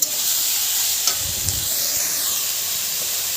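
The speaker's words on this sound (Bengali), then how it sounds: "এবারে ভালো করে নেড়ে দিচ্ছি মশলার সঙ্গে" Banana flower, potato and eggplant with spices are stirred in a hot pan, giving a steady sizzle and hiss with a few soft scraping strokes of the spoon.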